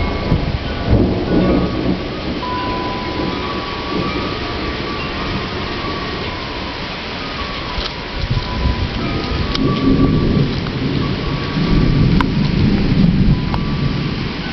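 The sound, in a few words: thunder and rain during thunderstorm in Hudson, Massachusetts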